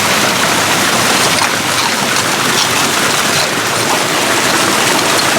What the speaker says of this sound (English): This is the bottom of a waterfall.